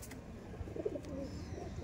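A young home-bred female pigeon gives a brief, soft, low coo, faint and close, over quiet background noise.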